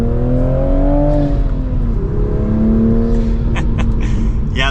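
A Toyota Supra fitted with lowering springs and wheel spacers drives steadily, its engine a continuous loud drone that rises and falls in pitch through gear changes, with faint higher whirring and clicks near the end.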